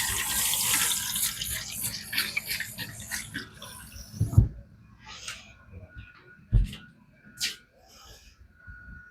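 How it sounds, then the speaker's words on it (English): Running water from a tap rinses a kitchen knife freshly sharpened on a THLEITE whetstone at 400 grit, a hissing stream with brief splashes and clunks as the blade moves, while someone talks over it. "That's just running water across it."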